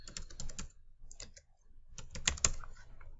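Quick bursts of clicking keystrokes on a computer keyboard, close and fairly soft, in two clusters separated by a short pause, with no voices.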